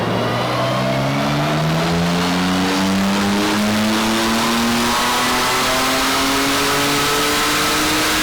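BMW M4 engine revving hard through a full dyno pull, pitch climbing steadily from low to high as the run builds, loud and continuous with no talking.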